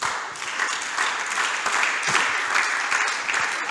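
Congregation applauding inside a church during a sermon, steady dense clapping from many hands sustained throughout, with no talk over it.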